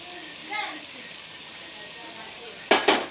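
Cashew paste frying in desi ghee with onions in a pan, heard as a low sizzle with a faint clatter early on and then two sharp, close spatula scrapes against the pan near the end.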